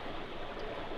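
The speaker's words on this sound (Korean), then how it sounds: "물소리." A flowing stream near a rural countryside home runs as a steady, dense broadband rush of water, close and constant for the whole second, with no voices.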